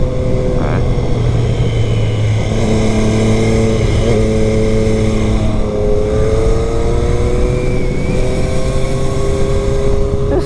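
A 2022 Triumph Street Triple R engine drones steadily while riding, its tone rising and shifting through revs under heavy wind roar, with the rider talking over it.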